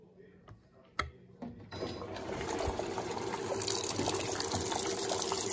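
Electrolux Blue Touch 12kg washing machine filling with water, a steady gushing rush that swells after a few soft knocks and clicks and keeps running loud and close to the end.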